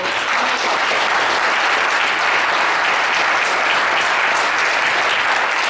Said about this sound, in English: let's give this Pastor Lord, we call him Pastor Lord, and this great panel a round of applause.